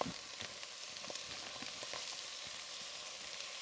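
Mushrooms, onion and thawing spinach frying together in a pan, a soft, steady crackling sizzle up close with faint stirring clicks and no voices.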